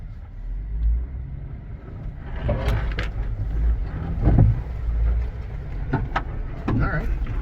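A rebuilt cheap Jeep with bad alignment on a test drive: a low engine rumble and road noise from inside the cabin, swelling with a few throttle pushes and knocks, with people talking over it.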